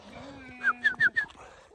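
Goats on a farm bleat in a short run of about four quick, fairly close calls over faint background noise.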